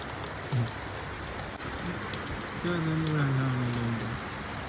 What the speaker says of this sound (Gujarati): વરસાદ આવે છે